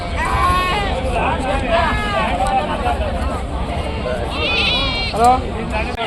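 Goats bleat repeatedly amid a noisy crowd at a sheep and goat market in Rajarampalli, with people talking and several animals calling close by over general market babble.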